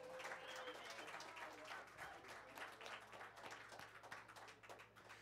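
Audience applause for a performer at a Christmas music event, a fairly quiet, steady patter of many hands clapping, with a low hum running underneath.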